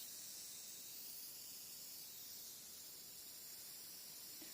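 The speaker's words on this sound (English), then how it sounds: "nice gentle bit of hairspray to hold everything in place" Hairspray from an aerosol can misted gently over model railway scenery to fix freshly planted details, a steady soft hiss lasting several seconds, close and even, with no talking.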